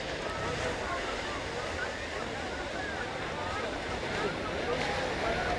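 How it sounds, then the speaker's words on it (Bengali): Sea waves roll in at Digha beach, a broad, steady wash of surf mixed with wind buffeting, heard continuously with no distinct breaks. "দেখো জলের কত বড় ঢেউ আসছে দেখো।"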